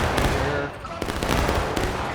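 Musket fire in the Battle Line video game during a tournament battle, several sharp overlapping shots cracking at irregular intervals over a busy background of distant volleys.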